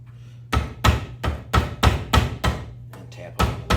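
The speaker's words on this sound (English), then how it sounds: "So I do end up pounding them in a little bit more with a hammer." Hammer tapping a staple against an anvil while fixing a heel knot foundation, about nine sharp metallic strikes in an irregular rhythm, close and loud over a low steady hum.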